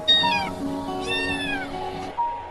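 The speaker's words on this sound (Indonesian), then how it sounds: "kucing." A cat meows twice in close succession, clear and near, with drawn-out rising and falling cries over a faint sustained background tone.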